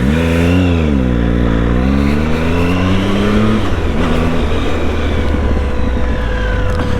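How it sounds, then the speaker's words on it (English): A motorcycle on its stock exhaust revs up and down, the engine note rising and falling, then settles into a steady, rumbling idle that runs throughout, fairly close and moderately loud. "it sounds pretty good with the stock exhaust, just that it's not that loud"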